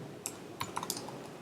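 Typing on a computer keyboard, with a handful of sparse, crisp key clicks spaced irregularly, close and fairly faint over a quiet background.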